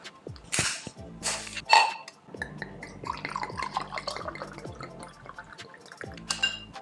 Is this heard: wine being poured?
yes